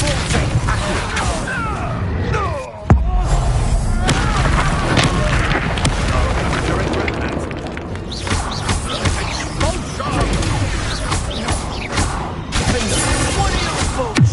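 Confringo spell blasts in the Hogwarts Legacy video game, heard as loud repeated booms and crashes amid busy combat effects, with one sharp impact near the start and someone talking over much of it.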